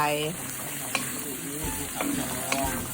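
Cucumber and egg stir-fry sizzles in a hot pan as oyster sauce goes in, a close steady hiss with a few sharp scrapes and clacks of the spatula, a brief voice at the start.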